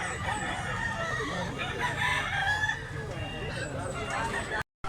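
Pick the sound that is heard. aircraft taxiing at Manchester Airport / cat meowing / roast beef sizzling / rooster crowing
rooster crowing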